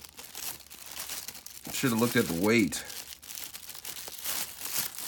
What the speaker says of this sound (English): It's a plastic bag right here.